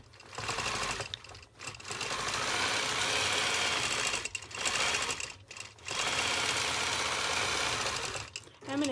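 A sewing machine quilts straight lines along a ruler in a quilt border, its fast, steady mechanical whir running in long bursts with short pauses between stitching runs.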